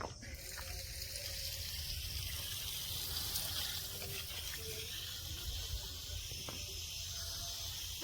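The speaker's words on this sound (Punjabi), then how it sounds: "ਹੁਣ ਦਈਏ ਫੁੱਲ ਬੁੱਟਿਆਂ ਨੂੰ ਪਾਣੀ" Water from a hose or pipe runs steadily onto vegetable and flower plants in a hot summer garden, a continuous soft hiss and gush, close and unbroken, with no talking.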